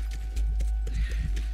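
A few brief hoof clip-clops from a horse in The Last of Us, soft and close over a steady low hum.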